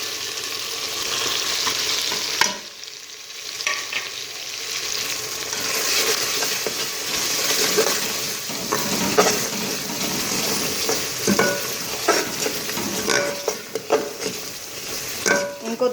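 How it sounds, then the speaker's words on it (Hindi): Ground spices with salt, turmeric, red chili, dried coriander and white cumin frying in a pan for daal mash, a steady close sizzle with repeated scraping stir strokes throughout. "इनको 2 मिनट के लिए भूनेंगे"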